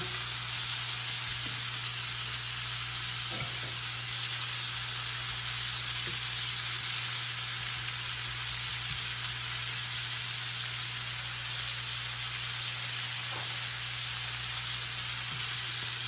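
Steady sizzling of meat browning in a pan, rendering fat as it cooks for Cuban fried rice, a continuous close hiss with no voices.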